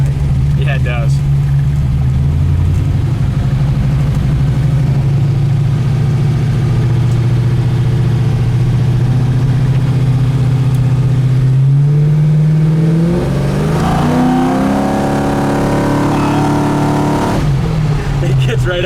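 A 1971 Chevrolet Camaro SS V8 idles with a deep, steady rumble, then the revs climb and fall in a couple of throttle blips near the end, loud and close, with people talking over it.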